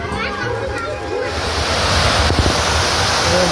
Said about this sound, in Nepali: ठुलो हावाहरू